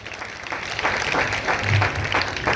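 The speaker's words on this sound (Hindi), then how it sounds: "जोरदार तालियों से स्वागत।" A village meeting crowd gives a burst of applause, dense clapping from many people sustained for a couple of seconds, fairly loud with some murmuring voices mixed in.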